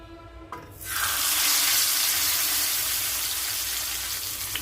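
Fish sizzling in hot oil in a pan, a loud, steady hiss that swells in after a brief quieter start and holds broad and even throughout.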